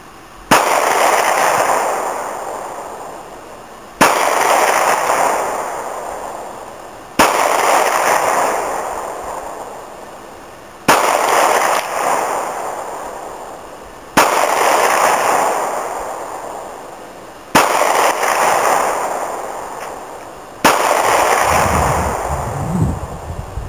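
Seven single shots from a Springfield Armory XDm .45 ACP 3.8-inch compact pistol, fired at a steady pace a few seconds apart, each a loud sharp crack with a ringing decay outdoors.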